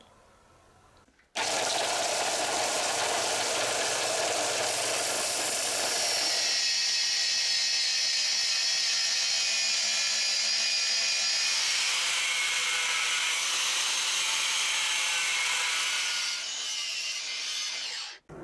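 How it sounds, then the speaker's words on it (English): An angle grinder cuts down the top of a small protruding part on a motorcycle fitting during a DR650 steering damper install, a loud continuous abrasive whine that starts abruptly, shifts to a thinner, higher-pitched grind partway through, then cuts off, with no talk. "just grind just the top of that off there"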